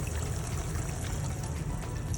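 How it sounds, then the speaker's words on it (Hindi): About a cup of water pours into liver shashlik (kaleji) cooking in a pan, a steady close trickle and splash running evenly throughout without any speech. "अब मैं इसमें थोड़ा सा पानी ऐड कर दूँगी।"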